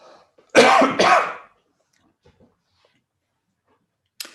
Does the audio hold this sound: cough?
yes